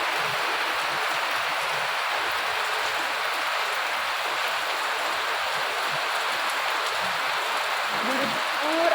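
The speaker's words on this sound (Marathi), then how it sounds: "भरपूर असा मोठा पाऊस येतोय." Heavy early-morning monsoon rain pours down without a break, a dense, loud, even hiss that holds steady throughout.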